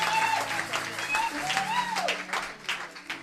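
A church congregation claps and cheers for the Lord, a burst of warm applause with whoops and shouts over it, easing off toward the end.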